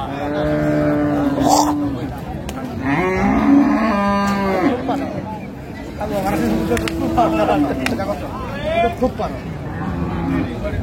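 Cattle, including dairy cows and calves, moo repeatedly and loudly at Raniganj cattle market in Dinajpur, with several drawn-out calls overlapping amid constant crowd chatter and people talking nearby.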